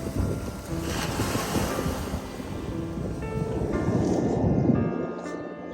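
Waves lap and wash against a boat on open water, a steady surging swash close by with wind buffeting the microphone throughout.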